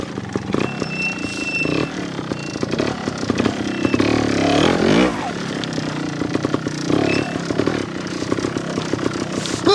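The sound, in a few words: Honda Montesa 315r trials motorcycle riding in second gear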